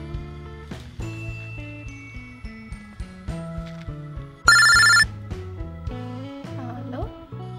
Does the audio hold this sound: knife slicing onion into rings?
no